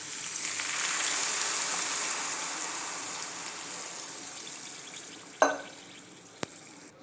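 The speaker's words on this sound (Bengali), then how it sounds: "এখন দিয়ে দেব পরিমাপ মতো জল" Steady hiss of frying potato and khir in a pan carries on, then water is poured in with a sudden burst of sizzle, followed by a single short clink near the end.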